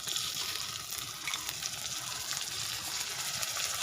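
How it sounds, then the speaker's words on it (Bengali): Chopped tomatoes and garlic fry in a pan with a steady, close sizzle of hiss and crackle that runs unbroken from start to finish, without any talk. "রসুনটা একটু টমেটোর সঙ্গে ভেজে নেব।"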